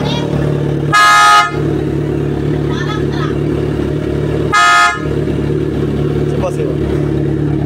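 Two loud, half-second blasts from a PIAA Super Bass horn on a Kawasaki Z1000 motorcycle are spaced several seconds apart, with faint voices in the background between them.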